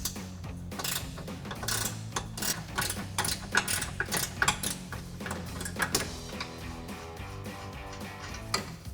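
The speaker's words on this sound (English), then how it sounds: "I'm going to come from the bottom with an 18mm ratcheting wrench to loosen up our nut." An 18mm ratcheting wrench works a nut loose on a rear camber arm of a 2006-2023 Dodge Charger, producing rapid close ratchet clicks in repeated back-and-forth bursts, fading to lighter ticking near the end.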